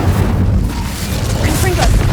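A Confringo blasting spell explodes in Hogwarts Legacy, heavy booming blasts rolling over dense battle noise with fiery crackle, loud and continuous, and a voice shouting over the combat.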